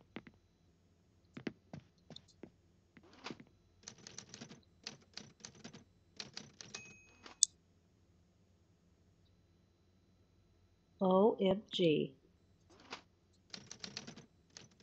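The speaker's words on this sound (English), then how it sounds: "Is this a typewriter?" Typewriter keys clack in quick irregular bursts with a bell-like ding, close and distinct; a person briefly exclaims partway through, then the typing resumes.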